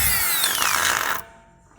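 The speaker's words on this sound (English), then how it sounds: "we finish them off with a die grinder" A die grinder smoothing drilled slots in a custom chopper handlebar, a loud high-pitched whirring grind that drops in pitch and cuts off near the end, leaving faint background.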